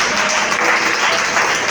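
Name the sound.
congregation applauding in church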